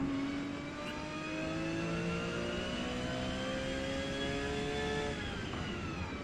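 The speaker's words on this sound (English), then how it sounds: "I really like the sound of the engine" A single race car engine in a racing video game revs steadily, its whining pitch climbing smoothly and then easing off, continuous and fairly close with no voices.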